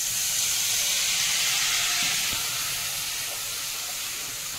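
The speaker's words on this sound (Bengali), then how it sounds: "এখন আমি একটু জল দিচ্ছি মশলাটা কষানোর জন্য" Water splashed into spice paste frying for aloo jeera gives a loud, steady steam hiss and sizzle that holds through and eases slightly toward the end, with no talk.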